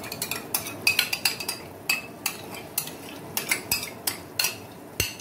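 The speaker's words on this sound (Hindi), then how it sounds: "इसको फेंट लें ताकि इसकी गुठलियाँ खत्म हो जाएं" Yogurt being whisked in a bowl for a fish salan, a quiet run of repeated sharp clinks and scrapes as the utensil knocks against the bowl in an irregular rhythm.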